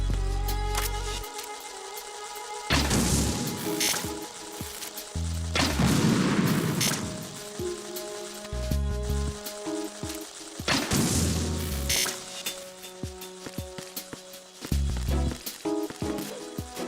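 Three heavy booming blasts from grenade launcher rounds in a video game, spaced several seconds apart, each with a broad rumbling tail over a steady game soundscape.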